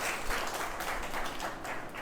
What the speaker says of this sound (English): So big round of applause for you all